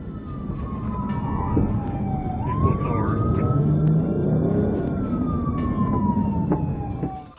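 Police sirens wail steadily throughout a high-speed car chase through the streets of Brook Park, with rising and falling tones sounding close and loud over the rumble of traffic.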